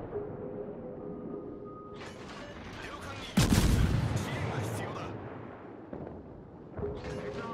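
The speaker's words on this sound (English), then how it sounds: "It looks like we're getting some shots here from the left, probably a Baltimore." Naval guns, likely from a Baltimore cruiser, fire in World of Warships: one heavy booming salvo lands mid-clip over a steady low engine drone, with mechanical clanks around it.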